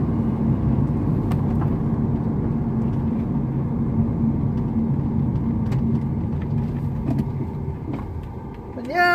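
A car passes on a residential street with a steady, loud rumble of engine and tires that holds through the whole stretch and swells slightly near the end.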